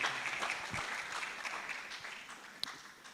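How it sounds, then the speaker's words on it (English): An audience applauds a lecturer, the clapping faint and distant like a soft, continuous patter with one sharper clap near the end. "I want you to give a rousing round of applause to our highly distinguished lecturer for today."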